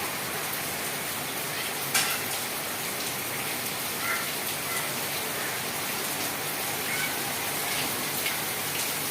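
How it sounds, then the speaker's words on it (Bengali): A heavy downpour makes a constant broadband rush of rain on surfaces, with a brief sharper spatter near the start and otherwise even, unbroken falling water. "অনেক বৃষ্টি পড়তেছে, অনেক।"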